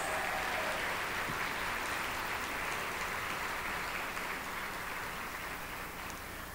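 An audience at a Match Day ceremony claps continuously in a dense, even patter, like rain, heard from a distance and fairly faint, slowly tapering toward the end.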